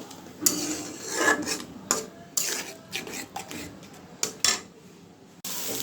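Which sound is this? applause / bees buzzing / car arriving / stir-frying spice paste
stir-frying spice paste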